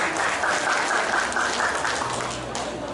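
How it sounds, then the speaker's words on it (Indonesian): A roomful of people at a local organisation's meeting claps steadily, a dense wash of applause that holds fairly loud and even, easing slightly toward the end. "tepuk tangan buat Bapak Waka 1."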